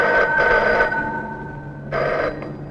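An electronic telephone rings in two bursts with a short pause between, a steady tonal trill with no voices.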